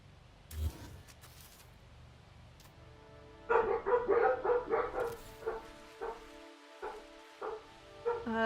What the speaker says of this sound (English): Sorry about the dogs. Y'all can probably hear that.